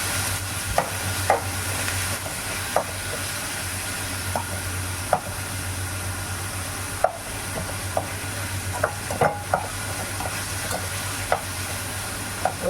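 Tomatoes sauté in a pan for fish curry, a steady close sizzle running throughout, broken by occasional light clicks and scrapes of stirring.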